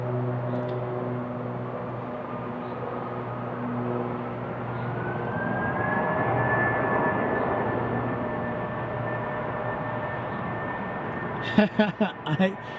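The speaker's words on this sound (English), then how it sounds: "Airbus Neo A320. They will be going to Las Vegas, just like that Frontier flight." An Airbus A320neo on a Frontier flight bound for Las Vegas roars steadily at an airport, a broad continuous engine rumble with a slowly rising whine, followed by a few brief knocking sounds near the end.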